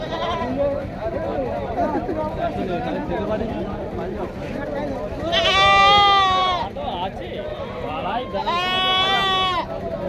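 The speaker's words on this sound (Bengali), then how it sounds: "দেখতেই পাচ্ছ সব ধরনের ছাগল আছে এই হাটে" Goats bleat at a livestock market in Uluberia, Howrah, with two loud, clear bleats rising above a steady crowd murmur and nearby talk.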